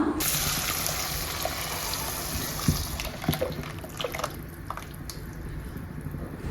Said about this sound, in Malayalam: അരപ്പിനോടൊപ്പം തന്നെ കുറച്ച് വെള്ളം മിക്സിയുടെ ജാറിലൊഴിച്ച് അതും കൂടെ ചേർത്ത് കൊടുക്കുന്നുണ്ട്